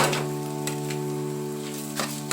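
Food frying in butter in a pan for coconut fried rice, a steady close sizzle with a constant hum underneath and a few brief scraping bursts, no talk.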